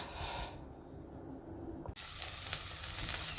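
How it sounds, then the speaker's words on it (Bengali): Milk heating on a stove in a home kitchen, giving a steady soft sizzle and hiss close by that grows brighter and busier partway through, with no voices. "আর এদিকে দুধটা জাল হচ্ছে"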